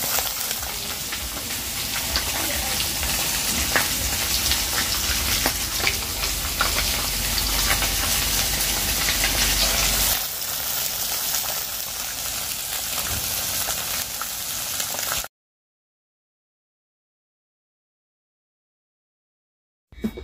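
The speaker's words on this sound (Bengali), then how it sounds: "জুয়ের পাপা মাছের ভাজা বসিয়ে দিয়েছে" Fish frying in a pan over a gas stove in a home kitchen, a loud steady crackling sizzle for about fifteen seconds, with a slight change in texture partway through, then it cuts to silence.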